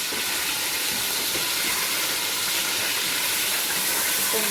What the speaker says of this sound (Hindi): ऑयल में जो है वो भून रहे हैं